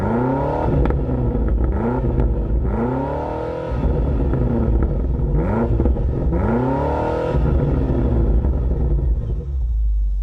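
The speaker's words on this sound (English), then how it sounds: "Let's go ahead and fire it up so you can hear what the engine sounds like." The V8 engine of a 2024 BMW X5 M Competition fires up and is revved repeatedly, each blip rising sharply in pitch then settling back to a deep, throaty idle.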